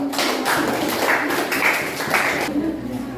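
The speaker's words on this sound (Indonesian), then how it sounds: "Kita tepuk tangan yang meriah untuk kelompok 1" Classroom audience clapping for a student group after its presentation during a teacher-training project session, a steady patter of hands lasting a few seconds and fading near the end.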